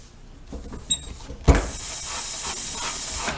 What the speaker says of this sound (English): Just give it a good steam.